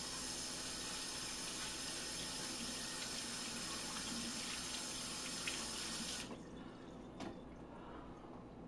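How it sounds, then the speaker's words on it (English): Hands washed under a running kitchen tap while preparing a smoked pork shoulder, a steady close hiss of flowing water that cuts off abruptly near the end, leaving faint drips and room tone. "Wash my hands off again."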